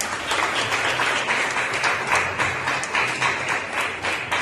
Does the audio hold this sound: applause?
yes